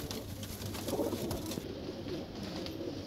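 Punjabi pigeons coo softly and steadily in a quiet loft, a faint low murmur of several birds with no talking.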